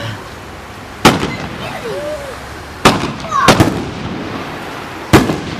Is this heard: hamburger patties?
no